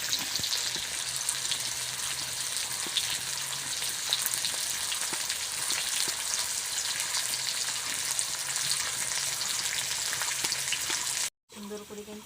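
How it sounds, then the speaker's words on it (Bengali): Potatoes fry in hot oil with a constant loud sizzle and occasional stirring clatter, broken by a brief cut near the end before the crackle resumes. "সুন্দর করে কিন্তু আলু ভাজা হয়ে গেছে।"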